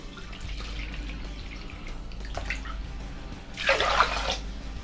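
Water is poured into a pan of rice for cooking by the absorption method, a soft trickle with scattered drips, then a louder rush of pouring near the end.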